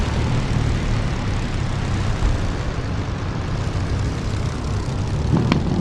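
An aircraft in the flight simulator DCS powers up for takeoff, a steady loud engine roar with propeller drone holding evenly throughout.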